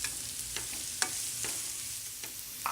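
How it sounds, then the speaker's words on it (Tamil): Chopped onions with salt stir-fried in a pan for chana masala, with a soft steady sizzle broken by several scraping stirs of a spatula, close and fairly quiet, no talking. "வெங்காயத்தையும் சேர்த்து நல்லா வதக்கிக்கோங்க."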